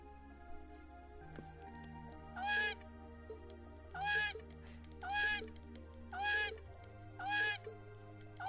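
Celine, a cat in the game Trails of Cold Steel, gives five short, clear meows spaced about a second apart, each rising then falling, over a quiet low background hum.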